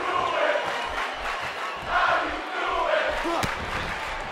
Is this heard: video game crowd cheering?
yes